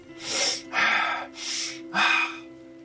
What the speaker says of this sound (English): The repetitive breathing more quickly and deeply, this kind of thing